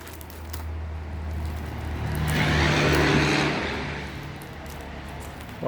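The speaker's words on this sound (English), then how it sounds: "Lots of traffic going by here." Road traffic passes a residential garage, with a vehicle swelling closer and louder through the middle, then fading, over a steady low engine hum.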